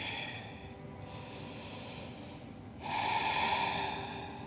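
Deep yogic breathing in a downward-facing dog pose, with a long slow inhale followed by a stronger, louder exhale, close and unaccompanied by talk.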